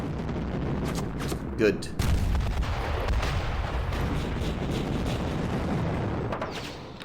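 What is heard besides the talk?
artillery fire on gun emplacements in Panzer Campaigns video game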